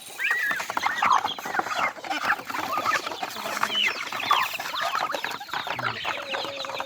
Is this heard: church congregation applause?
no